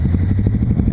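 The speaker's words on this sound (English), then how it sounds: "maybe it stalls like that because the float height isn't set right." A carbureted motorcycle engine runs loud and close at a rough, lumpy idle, its uneven pulsing beat sounding close to stalling after a long stretch at three-quarter throttle.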